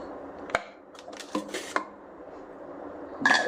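A metal lid set onto a cooking pot of mushroom biryani in a home kitchen, with a few faint clinks and knocks followed by one louder, ringing metallic clatter near the end.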